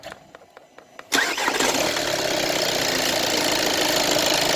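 A 2013 Kia Grand Carnival diesel engine starts after a short cranking phase of quiet rhythmic ticks, then catches with a sudden loud burst and settles into a steady, rough, clattering idle close by.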